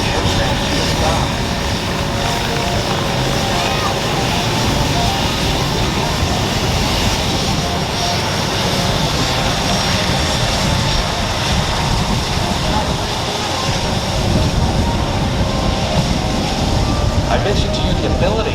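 A C-17 military transport aircraft landing on the runway at an air show at an Air Force base, a loud steady roar of jet engines over the whole stretch, with a commentator talking over a public address system.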